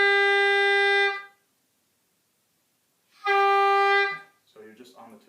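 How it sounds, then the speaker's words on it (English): Oboe blown with too much reed in the mouth, giving two loud, steady, buzzy held tones separated by silence, played close; a voice speaks briefly at the end. "if you have too much reed in your mouth, it's going to sound like this."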